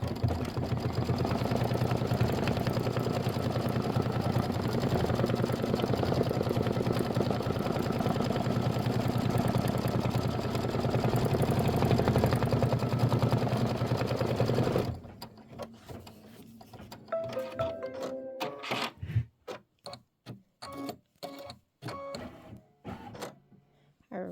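Embroidery machine sewing a placement stitch for foam, a fast steady mechanical whirring stitch for about fifteen seconds, then stopping into intermittent clicks and taps.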